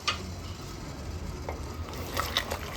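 Semolina being stirred into boiling water with ghee in a pot for Odisha's suji kakara pitha, a steady close scraping and sizzling swirl with a few sharper clicks from the spoon near the end.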